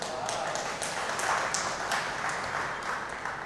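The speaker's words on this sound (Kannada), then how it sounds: "ನೀವೆಲ್ಲ ಚಪ್ಪಾಳೆ ಹೊಡೆದ್ರಿ" An audience at a talk by a retired police chief and writer claps together, a dense, sustained patter of many hands that stays fairly even for several seconds, heard from within the hall.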